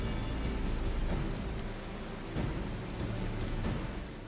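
Rain falls in Final Fantasy XIV as a dense, continuous wash of hiss and patter, fairly loud and steady, with an occasional soft thump.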